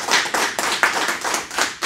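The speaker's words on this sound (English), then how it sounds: "these individuals need a round of applause for the job they've done" Board of education meeting audience giving board members a short burst of clapping, a handful of close, distinct hand claps in an uneven rhythm with nothing else heard.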